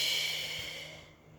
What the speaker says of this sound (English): Take a nice deep inhale and exhale.